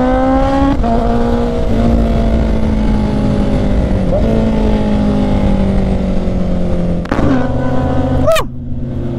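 A Honda CB650R motorcycle accelerates hard and loudly, its engine pitch climbing in steps. Several quick-shifter gear changes briefly cut and drop the revs before a final sharp rise and sudden fall near the end.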